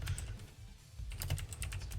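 Rapid clicking of a computer keyboard being typed on at a desk, quiet and close to a low-gain microphone, in two bursts of steady keystrokes separated by a brief pause, no voices.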